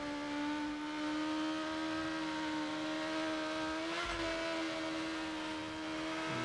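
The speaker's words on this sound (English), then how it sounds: "Loud car." Loud car engine in the Burnout Paradise Remastered racing game, a steady high-pitched drone with layered harmonics that holds throughout, briefly dipping and surging around the middle amid faint tire and impact noise.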